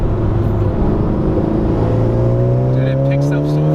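A modified Honda Civic Type R accelerates hard, its engine note climbing steadily and loud from inside the cabin, with a voice speaking over the engine.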